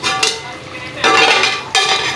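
A cooking pot is scraped clean while ghee is squeezed out for an okra and mutton stew, giving a few loud, close metallic scraping strokes in quick bursts.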